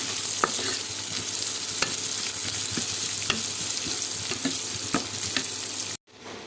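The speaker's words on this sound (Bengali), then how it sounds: "আমার মরিচ পেঁয়াজ ভাজা হয়ে গেছে" Green chillies and onions sizzle loudly in hot oil, a continuous close hiss broken by regular scraping stirs of a spatula, ending in an abrupt cut.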